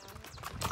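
Hooves of horses clatter briefly as the animals jump, a quick, faint burst of clip-clop steps over a noisy outdoor background.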